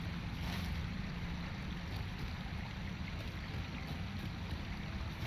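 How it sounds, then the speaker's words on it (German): A waterfall in Lord of the Rings Online rushes in a steady broadband roar, continuous and even, with no voices over it. "Da ist dahinter so ein Wasserfall."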